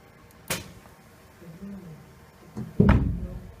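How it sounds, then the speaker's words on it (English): The door of a CNC milling machine being handled and shut, a sharp knock followed by a heavier closing thud, with faint talk between them. "and close the door."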